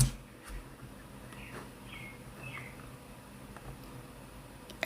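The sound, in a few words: birds chirping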